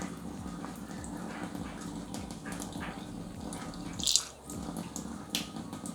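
Water splashes and trickles as it is sprinkled by hand onto ground egusi seed for moulded egusi soup, with a brief louder splash partway through and no talking.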